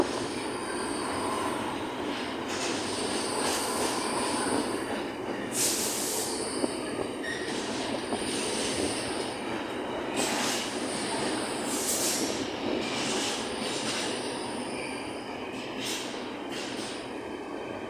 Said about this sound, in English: I've not seen an electric Northern multiple unit before on my travels either.